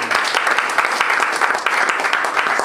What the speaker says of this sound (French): Aidez-moi à applaudir pour eux, s'il vous plaît.